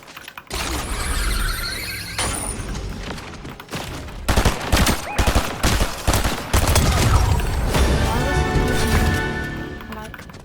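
Fortnite gunfight with bursts of rapid gunfire, sharp shots and some shattering impacts, loud and close, broken by short gaps, then a sustained heavy stretch of firing to the end.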